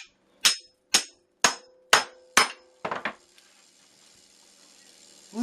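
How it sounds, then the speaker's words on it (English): Five sharp metallic hammer strikes land on a cleaver to cut open a bone, evenly spaced and ringing, followed by a quicker cluster of smaller knocks and then quiet. "and then you hit it with the hammer."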